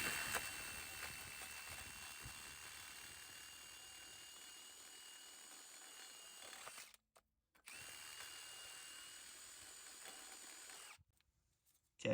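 An electric drill spins a cleaning band on a vehicle brake hub, a steady high-pitched whine running continuously with two brief pauses and restarts, close and fairly quiet.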